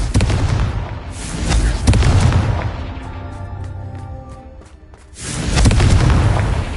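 Confringo blasting spell explosions in the Hogwarts Legacy video game: heavy booming blasts open and close the stretch, with a quieter gap of ringing, crackling debris between them, loud and close.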